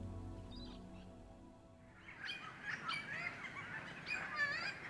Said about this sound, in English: Silver-crowned friarbirds squawk away in the grevilleas